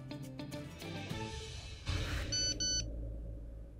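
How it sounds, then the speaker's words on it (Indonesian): A phone chimes with a short electronic message-notification beep in two quick pulses, heard after a stretch of dramatic background music. "Ada pesan dari Samir"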